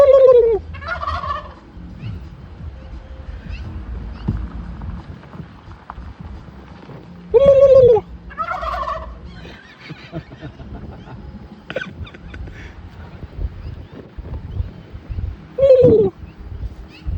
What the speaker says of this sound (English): I never thought they'd gobble back at me if I did.